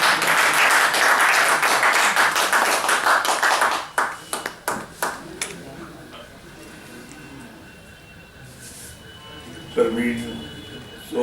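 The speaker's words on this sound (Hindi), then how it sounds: "एक बार जोरदार तालियों से।" An audience at a memorial event breaks into loud, dense applause that fades into a few scattered claps, then quiet room tone, with a short burst of voices near the end.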